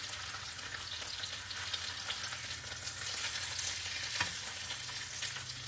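Tuna sears in a browning pan, a fairly quiet, unbroken crackling sizzle that holds steady throughout, with a faint knock near the end and no speech.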